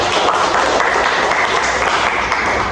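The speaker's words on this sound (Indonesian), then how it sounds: "tepuk tangan untuk Putri" Applause for Putri at the close of a student's presentation, dense steady clapping from a group filling the whole stretch at an even level with no voices over it.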